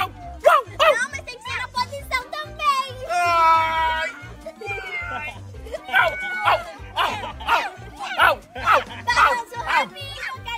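A child imitates a dog, voicing a quick run of yappy barks and whines with a drawn-out howl, close and loud, while other people chatter and laugh around the imitation.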